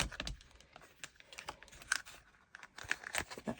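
Scissors snip out a piece of stamped vellum, producing a close, quiet series of irregular crisp clicks and papery crinkles with no voice.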